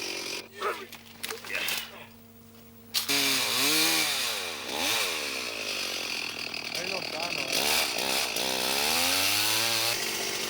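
A chainsaw revs and whines steadily, its pitch swooping up and down as it bites into wood in the Sulawesi mountains during the 1988 Camel Trophy, preceded by a few scattered knocks and thuds.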